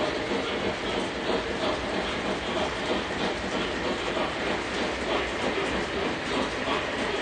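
A model train circles a Fast Track layout with a steady rolling rumble and a faint rhythmic clickety-clack from the rails, sustained and close throughout with nobody talking.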